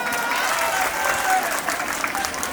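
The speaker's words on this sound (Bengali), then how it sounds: "একটা তালি হয়ে যাক।" A college farewell audience bursts into applause, a dense, steady wash of clapping from many hands that holds evenly throughout with no pauses.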